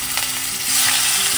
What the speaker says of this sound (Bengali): এটার মধ্যেই মাছগুলো ভেজে নেব।